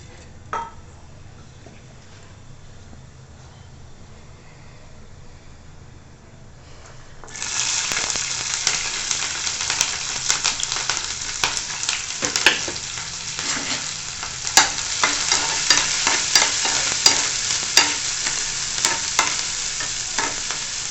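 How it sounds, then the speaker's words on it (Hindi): Cumin seeds and chillies dropped into hot oil burst into a loud, steady sizzle partway through, after a quieter stretch, with scattered crackles and pops over the continuous frying hiss. "थोड़ा सा जीरा डाल देती हूँ, तेल हो गया है गरम"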